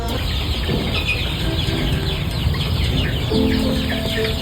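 Poultry chickens at a farm clucking continuously, a dense close flock chorus of overlapping clucks and squawks at steady loudness.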